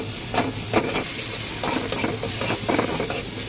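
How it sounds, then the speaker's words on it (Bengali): Onion and garlic sizzle loudly in a pan as a spatula stirs them in quick repeated scrapes and knocks against the metal, all close up and without speech. "পেঁয়াজ রসুন একটু ভালো করে ভেজে নেবো"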